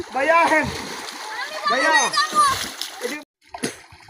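Water splashes in a pond as a child dives and bathes, with choppy sloshing under excited children's and adult voices talking throughout, then a brief pause and a last splash.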